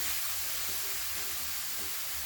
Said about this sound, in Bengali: এইভাবে পুরো নারকোলটা মানে আমি ঢেলে দিচ্ছি আস্তে আস্তে করে কড়াতে